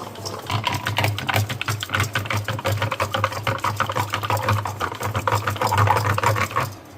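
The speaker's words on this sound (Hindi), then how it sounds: "पूरी ही दही को मैंने पानी में घोल के डाल दिया और यहाँ चला दिए मैंने रई" Curd whisked into water with an electric churner (rai) in a home kitchen, giving a steady, loud motor whir with rapid sloshing pulses that runs continuously and close for several seconds.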